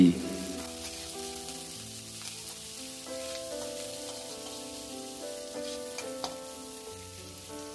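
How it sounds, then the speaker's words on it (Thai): Chopped garlic and cabbage stir-frying in a little vegetable oil, a steady close sizzle with soft stirring scrapes throughout and a faint tonal hum underneath. "เติมน้ำมันพืชเล็กน้อยใส่กระเทียมสับครับ ผัดไปจนหอม ใส่กระหล่ำปลี"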